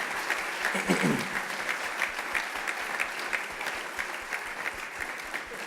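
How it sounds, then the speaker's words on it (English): An audience at a business leaders' gala gives a round of applause, a full, sustained roar of many hands clapping steadily, a voice briefly audible near the start. "give one more round of applause to our outstanding business leaders"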